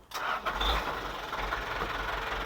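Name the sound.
used car engine starting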